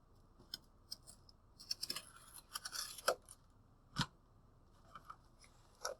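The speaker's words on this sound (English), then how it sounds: "What I've done here is I've scored the cardboard" A sharp box cutter scores cardboard in a few quick, scratchy strokes, with short crisp clicks and rustles spaced irregularly across a quiet room.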